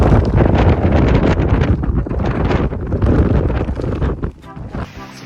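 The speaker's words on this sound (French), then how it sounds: "Bien sûr, il y a du vent." Strong gusts buffet the microphone on a rugged stretch of the GR20 mountain trail in Corsica, a loud blustery roar that surges and eases for several seconds before dropping away at the end.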